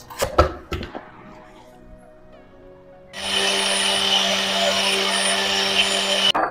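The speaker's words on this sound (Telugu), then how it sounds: "ఇప్పుడు ఈ రైస్ని పౌడర్ చేసుకుందామండి" Mixer grinder powdering roasted rice: a few clunks and knocks, a brief quiet, then the motor kicks in with a loud, steady high whine that runs for several seconds before cutting off.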